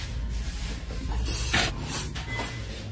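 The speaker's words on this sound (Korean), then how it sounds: "머리 스프레이까지" A short hiss of hair spray from a can at a salon, a breathy burst in the middle of a steady background hum, moderately close and with no talk over it.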